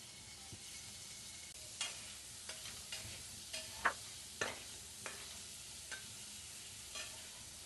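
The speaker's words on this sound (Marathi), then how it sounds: "आणि पनीर घेते फ्राय करून।" Cubed paneer frying in a little oil in a kadhai, with a soft, steady sizzle under light stirring and intermittent clinks of a spatula against the pan.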